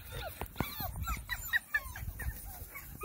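Rough Collie puppies at play in an outdoor play area yip, whimper and bark in quick overlapping bursts, an excited high-pitched chorus close by.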